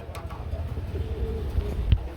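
Pigeons, a Dauka paired with an Archangel, give soft low cooing with a sharper call near the end, under steady background rumble from a pigeon market stall.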